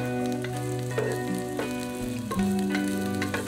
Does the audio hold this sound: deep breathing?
no